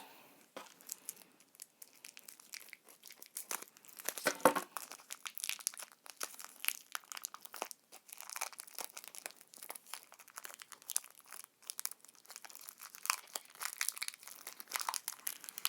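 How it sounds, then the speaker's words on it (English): Close, quiet crinkling and rustling of plastic packaging on a modeling clay activity kit being opened, with irregular crackles and tearing sounds continuing throughout. "Let's see if I can get into this packaging."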